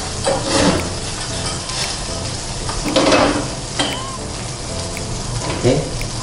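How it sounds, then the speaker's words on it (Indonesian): Milk being stirred steadily in a pan to dissolve lumps while making a roux sauce, a continuous wet scraping and swishing close by with faint sizzling underneath, no one talking. "susu kita tuang lagi, aduk, susu kita aduk terus jangan sampai ada gumpalan ya, sampai benar-benar larut"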